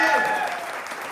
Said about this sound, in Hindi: अपने आप के लिए एक जबरदस्त ताली हो जाए